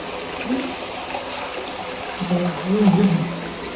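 Cold water flows steadily outdoors, a constant soft rushing wash with faint trickling, while voices sound briefly over it.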